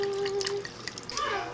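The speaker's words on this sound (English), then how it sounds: "gonna pour myself some wine" Raspberry wine poured from a bottle into a glass, a brief close gurgling and splashing of liquid with a rising ringing tone as the glass fills, fairly quiet.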